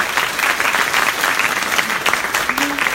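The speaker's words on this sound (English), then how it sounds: "Round of applause for Peter." An audience applauding at a startup demo day, steady crowd clapping throughout at a moderate, somewhat distant level, with a brief voice underneath near the end.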